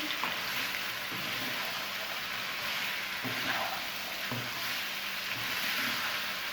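Cauliflower and chicken fry together in a pan, giving a steady close sizzle with occasional soft stirring knocks and scrapes, and no talking.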